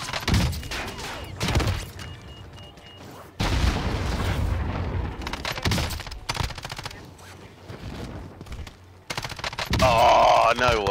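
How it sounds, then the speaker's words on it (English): Gunfire in the battle royale video game Warzone: dense, rapid bursts of shots and booms come in waves, loud and continuous, with voices talking over parts of it. "Oh, he's shooting. Look at that."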